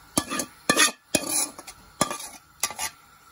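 Chicken pieces tipped into a pot of rice for biryani and spread with a spoon, giving several separate scraping, stirring bursts with short pauses between them, close up and with no talking.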